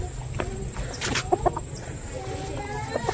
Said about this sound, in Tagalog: Yan yung mga manok natin dito.